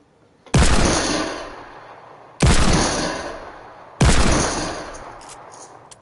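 Three heavy gunshots from a shooter video game, each a loud sharp crack with a long decaying echo, spaced about two seconds apart with no talk.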